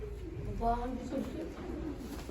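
Soft cooing from a Diyarbakır güllü pigeon in a few low, throaty phrases, close by, with a steady background murmur.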